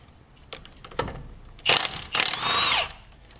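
An 18 mm caliper bracket bolt coming off a Ford F-150, with a few close metallic taps and clicks followed by two short, loud power-tool bursts, the second held briefly before it stops.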